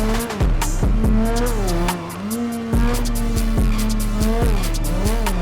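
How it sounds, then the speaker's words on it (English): In GTA 5, a Lamborghini slams on its brakes with loud, sustained tire squeal over a roaring engine that revs and drops through several gear changes, close and with no voices. "Slamming on the brakes for her."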